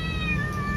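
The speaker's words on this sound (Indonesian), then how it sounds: "Kali ini ada kucing gandik guys, atau kucing garong." A tomcat meows and caterwauls during mating season, a steady drawn-out wavering cry close by, loud and alone without any talking.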